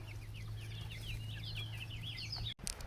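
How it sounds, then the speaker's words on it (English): Small young chickens from an egg swap peep and cluck in a quick chirpy series over a steady low hum, fairly faint, ending with a brief rustle. "he's gonna hang with all of these little chickens that we got from the egg swap"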